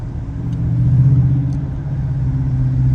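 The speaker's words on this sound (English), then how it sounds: "I hope y'all can hear that intake." Steady low engine rumble and intake drone from a 2022 Dodge Challenger R/T Plus cruising on a night drive, heard from inside the cabin, swelling slightly as it pulls, with no talking.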